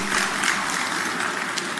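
A business school audience at a live graduation-style event applauds, giving a dense, even wash of many hands clapping at steady loudness throughout the short stretch.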